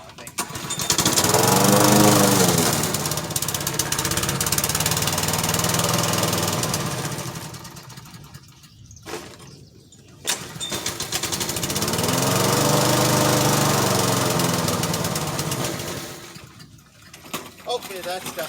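A push lawn mower with a faulty carburetor runs close by, its engine surging up and down in long waves and nearly stalling twice before picking back up, cutting grass.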